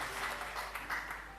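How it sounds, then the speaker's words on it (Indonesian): A church congregation applauds, a short burst of many hands clapping together, moderately loud and filling the room. "Mari tepuk tangan bagi orang itu, Yesus Kristus Tuhan"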